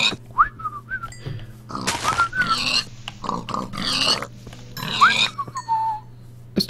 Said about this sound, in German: Oh, Schweine, Schweine, Schweine